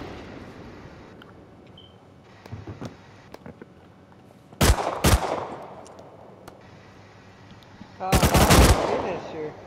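Gunfire in the video game Rust: a sharp pair of close, loud shots, then a quick rapid burst a few seconds later, over a quiet background of faint game ambience.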